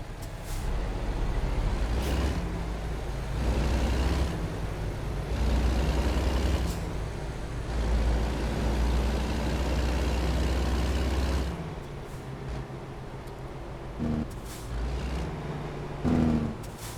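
A Peterbilt truck in American Truck Simulator runs steadily with a loud low engine drone, and a Jake brake rumble swells and fades in several long surges, alone without talk.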